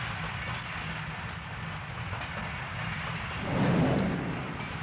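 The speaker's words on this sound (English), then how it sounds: "Here's a short train behind 405 for its first time" A model train rumbles along steadily, its running noise swelling briefly louder near the end as it passes close.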